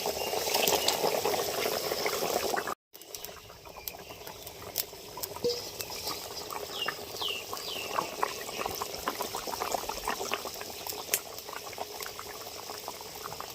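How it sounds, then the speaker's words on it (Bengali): Magur fish curry bubbles and simmers steadily in a pot after the fish go into the boiling liquid, a faint continuous patter with one brief dropout. "ফুটে গেছে মাছগুলো দিয়ে দিচ্ছি"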